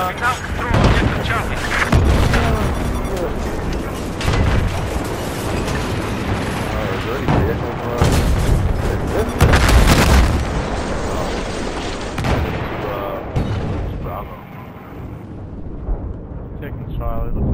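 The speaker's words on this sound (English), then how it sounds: "It looks like somebody's shooting rockets on the building." Rockets slam into a building in Battlefield 4 on Golmud Railway during a Conquest match, a loud continuous barrage of booming blasts and crackling debris. The blasts are heaviest early and mid-clip and thin out toward the end, with a player's voice talking over them.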